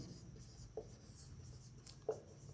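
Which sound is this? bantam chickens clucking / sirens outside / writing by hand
writing by hand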